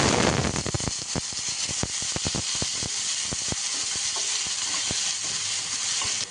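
Mustard seeds and soaked dal hitting hot oil in a pan: loud, dense sizzle with rapid crackling pops from the seeds, steady throughout and alone, no voices.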